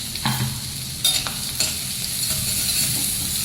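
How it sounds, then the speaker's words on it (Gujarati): Chutney sizzles as it hits a pan over low gas, a steady frying hiss with a few sharp stirring scrapes near the start and around the one-second mark, close and moderately quiet with no voices. "ધીમો ગેસ કરી ડાયરેક્ટ ચટણી સીધું આ નાખી દીધું."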